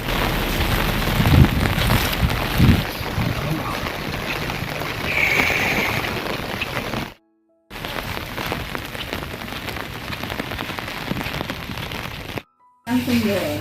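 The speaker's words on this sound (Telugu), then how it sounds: "ఫుల్ వర్షం వస్తుందబ్బా" Heavy rain pours steadily in a village, a dense continuous hiss of drops on surfaces with a few brief thuds, broken by two short silent gaps; a voice talks faintly in the first seconds.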